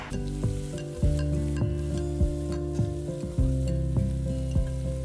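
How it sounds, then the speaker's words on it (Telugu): Marinated chicken hits hot oil with whole spices in a biryani handi, a loud, close, crackling sizzle with repeated stirring knocks and scrapes throughout. "మంచిగా స్మెల్ ఎరోమో వస్తుంది అన్నప్పుడు చికెన్ వేసేస్తున్నాను"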